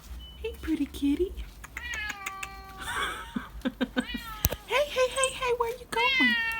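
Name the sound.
cat meowing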